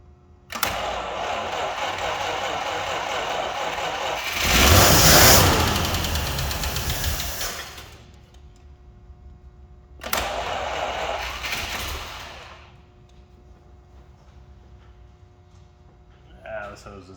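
Packard car engine, freshly primed with gas poured into the carburetor, catching and running loudly for a few seconds with a surge, dying, then briefly firing again before fading.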